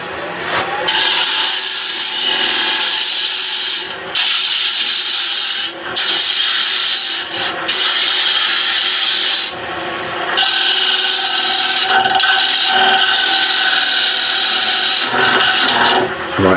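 A gouge cuts waste wood from a toffee dish spinning on a wood lathe, making a loud, continuous scraping and hissing rasp broken by short pauses as the tool lifts away and comes back to the work.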